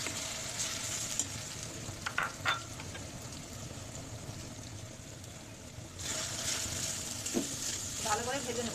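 Ginger garlic paste and chopped onion frying in a pan for chicken, a continuous sizzle with occasional stirring clatter and a brief rise in hiss partway through, no voice.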